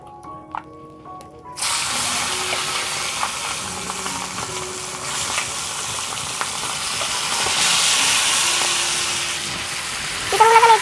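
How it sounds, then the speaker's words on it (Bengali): Chicken pieces fry in a pan for a Bengali chicken curry, a steady broadband sizzle starting abruptly after a quiet second and holding loud and close, with occasional clinks and stirring, swelling briefly near the end. "চিকেনগুলোকে আমি একটু ভেজে নেবো, বেশি না, অল্প একটু।"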